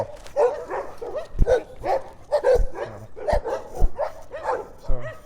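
Several dogs bark from somewhere off to one side during a morning walk past large houses, the barks coming in short repeated bursts at moderate distance over steady background sound.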